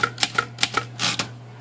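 Keys of a 92-year-old Remington typewriter being typed, a quick series of sharp, close mechanical clacks in uneven rhythm, about eight strikes, with no talking.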